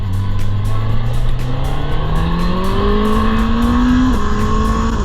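Suzuki GSX-S1000GX motorcycle engine revving hard under acceleration, a loud steady roar rising in pitch through a gear, briefly dropping at a shift, then climbing again, close and continuous.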